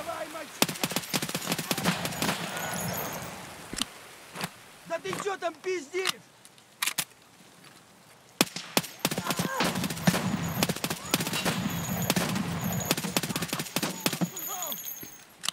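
Sharp gunshots and automatic bursts from a gun in the video game Escape from Tarkov crack loudly in irregular clusters, separated by brief quiet gaps, with a voice talking in between.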